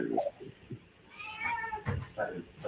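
A cat meows once, drawn out and fairly clear, amid people talking and calling out nearby in a casual indoor setting.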